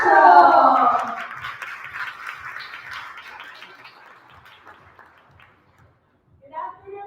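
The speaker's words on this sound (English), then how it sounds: "Please give her a round of applause to our community lead of GDG Manila" An audience at the GDG DevFest Pampanga 2022 tech event claps to welcome the GDG Manila community lead. A brief voice comes first, then a moderate round of applause fades out and a voice returns near the end.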